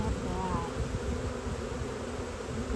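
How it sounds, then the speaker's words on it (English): Dense, steady buzzing of a swarm of healthy honeybees, loud and close, filling the whole stretch without pause. "Good, healthy bees."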